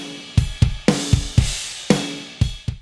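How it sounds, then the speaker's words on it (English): A drum kit recorded at home in a basement studio plays a steady groove: punchy kick hits and crisp snare backbeats under washy cymbals, loud, close and roomy, with no talking. "Would you like your home drums to sound like this?"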